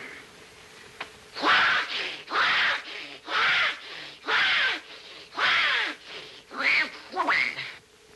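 A voice imitates sawing wood, with eight rhythmic raspy strokes repeating back and forth at a steady pace, close and fairly loud.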